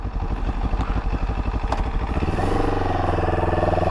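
A CFMoto 700 CL-X motorcycle engine catches and settles into a close, steady idle, its rapid even thumping pulses running continuously without talk.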